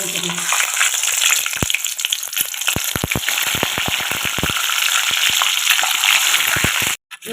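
Eggs frying in a pan of hot oil with mustard seeds and cumin, a steady loud sizzle broken by frequent sharp pops and crackles as the seeds burst, heard alone with no talk.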